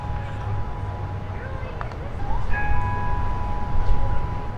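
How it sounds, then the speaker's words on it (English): Church bells toll in Orlando in a few ringing strikes with lingering tones. They are moderately distant and partly masked by a voice talking over them and by low background rumble. "Church bells tolled in Orlando precisely 1 week after Omar Mateen began shooting at Pulse nightclub."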